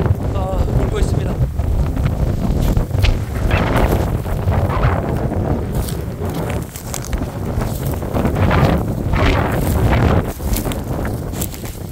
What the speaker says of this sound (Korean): 지금 바람이 굉장히 많이, 네, 불고 있는데